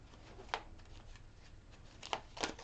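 Quiet tarot card shuffling, soft papery riffles and slides, a few slightly sharper flicks near the end, over a low background hum.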